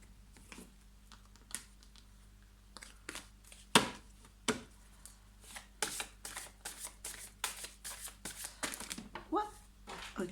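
Gaïa oracle cards being shuffled in repeated crisp riffling bursts, close and fairly loud, speeding up toward the end, with some voice faintly present beneath.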